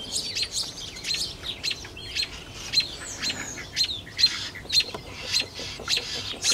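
Many small birds chirp and chatter in a busy overlapping chorus on a still morning outdoors in southern Idaho, with repeated bright calls near and far and no talk.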